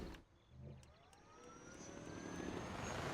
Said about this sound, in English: What we can do is snag this little helicopter here